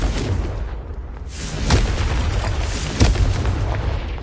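An explosion from the Confringo blasting spell in a Harry Potter game, a loud booming blast with two sharp bursts over a dense rumbling roar.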